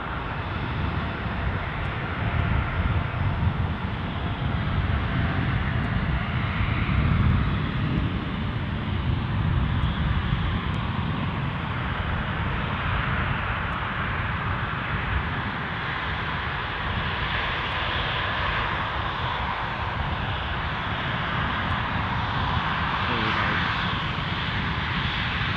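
KLM airliner at Edinburgh Airport, engines giving a steady, sustained roar at moderate distance for the whole stretch, with no speech over it.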